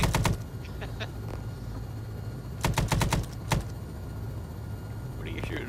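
Rapid automatic gunfire in Arma 3, with a Vietnam-era setting, comes in sharp bursts: one burst at the start and a longer volley midway, then a single shot, over a low background rumble.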